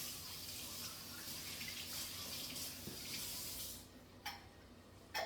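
Water runs steadily from a kitchen tap for a rinse during soup cooking, a continuous broad splashing hiss that cuts off near the end, leaving brief faint splashes.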